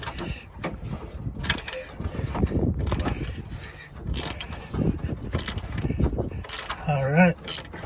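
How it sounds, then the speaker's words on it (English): Wrench turning and working loose the rear brake bolts on a 2003 Chevy Suburban, with irregular metallic clicks, scrapes and clinks close by over a noisy garage background. "Now I take my wrench and I just work these bolts out."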